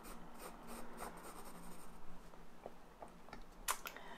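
A pencil roughly sketches a mandala on paper with a series of soft, close scratching strokes. The strokes come in quick repeated sweeps and then slow to a few isolated scrapes, all faint and quiet.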